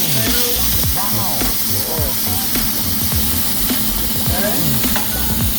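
Potatoes fry in hot, smoking oil with a loud, steady sizzle and crackle close up, along with scraping stir sounds, while a voice speaks briefly.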